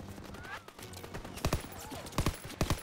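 Machine gun fire in the Call of Duty WWII campaign, heard as several clustered bursts of rapid shots in the second half over a busy battle background, with someone speaking through the early part.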